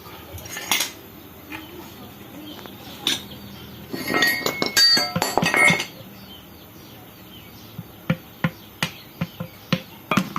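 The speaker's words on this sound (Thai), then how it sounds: "ค้อนนะครับ" Metal-on-metal hammer taps while a rear wheel seal is fitted on a Kubota L5018 tractor: scattered clinks and knocks, then a quick run of evenly spaced sharp taps near the end, close by with no talk.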